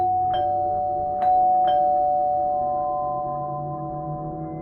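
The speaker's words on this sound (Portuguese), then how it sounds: "quando a campainha tocou 2 vezes" A doorbell rings twice, two clear chimes close together that ring on and slowly fade in a quiet room.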